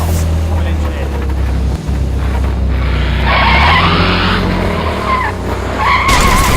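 A truck skidding in a crash, heard as a sustained loud roar of engine and tire scrub with wind noise, shifting into a high screeching whine partway through.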